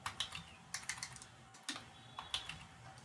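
Typing on a computer keyboard in irregular bursts of quick, close key clicks with brief pauses, heard alone without any talk.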